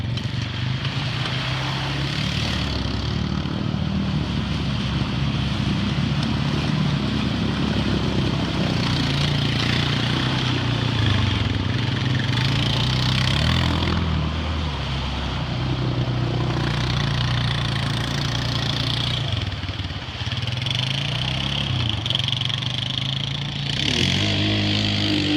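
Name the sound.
four-wheeler ATV engine running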